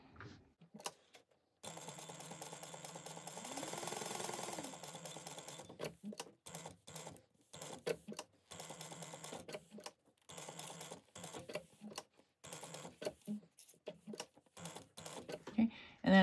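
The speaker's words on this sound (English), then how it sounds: "I'm going to sew around the outside, so out here, all the way around at 1/8 of an inch." Home sewing machine stitching around the outside edge of a sling backpack at an eighth-inch seam, a fast whirring run of even needle ticks, then stop-start bursts and small clicks of fabric handling.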